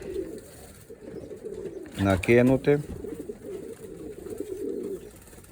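Racing pigeons being trained for upcoming competitions coo softly and steadily in the background, while a brief burst of a man's speech rises over them in the middle.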